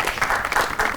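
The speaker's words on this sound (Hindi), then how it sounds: "बहुत ताली होनी चाहिए शाम भाई" A studio audience at a comedy talk show claps briefly in a dense, steady burst of applause, close and fairly loud.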